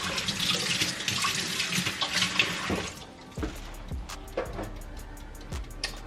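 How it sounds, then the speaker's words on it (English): Milk pours steadily into cornbread batter made with vegetable oil for about three seconds. A few soft clinks and small kitchen knocks follow close by. "We're going to pour a little milk in here."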